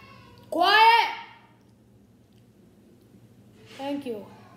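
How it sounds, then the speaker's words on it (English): A baby cries out in two separate wails, the first loud and rising, the second shorter and fainter, heard from a nearby room over a quiet, low hum. "My baby screaming in the background."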